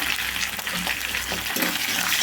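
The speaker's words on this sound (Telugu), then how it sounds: "తాలింపు అయితే వేగిందండి పప్పులోకి వేసుకోవాలి" A tempering of garlic, dry red chillies, curry leaves and asafoetida sizzles and crackles steadily in hot oil for dal. It sounds loud and close, with intermittent stirring throughout.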